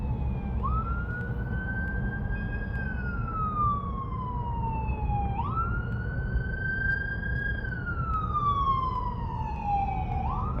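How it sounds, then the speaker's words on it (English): A wailing siren rises and falls in slow sweeps over a steady traffic rumble, fairly close and continuous. "I don't know what the sirens are about."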